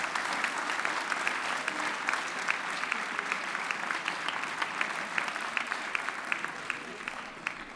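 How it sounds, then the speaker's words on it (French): Audience at a choral concert applauding steadily, a dense wash of claps at even volume with occasional sharper individual claps standing out. "Oui, on peut l'applaudir."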